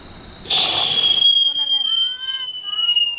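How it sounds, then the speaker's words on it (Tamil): A whistling firecracker set off during Diwali gives a loud, piercing whistle that slides slowly downward for about three seconds after a brief rushing burst at ignition, with voices faintly present. "இதான் விசில் வெடி"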